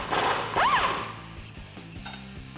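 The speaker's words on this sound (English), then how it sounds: "Repeat that with the upper bolt with an 18mm wrench and a 15mm socket." The upper shock bolt on a 2004-2008 Ford F150 is loosened with a ratchet on a 15mm socket, braced by an 18mm wrench. Close metallic clicking and a brief squeaky turning sound are followed by quieter mechanical ticks.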